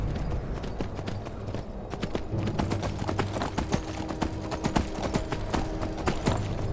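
Horse hooves clip-clopping in a video game, a brisk, steady run of sharp hoof strikes that grows denser and louder partway through, over a low ambient bed.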